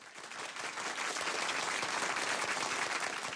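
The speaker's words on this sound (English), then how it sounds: "I'm going to hold for an applause" Sustained audience applause at a leadership talk on stage, steady and dense throughout as guests are welcomed, with no speech over it.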